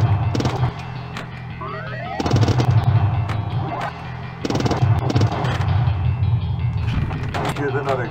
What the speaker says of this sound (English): Here's another explosion for your movie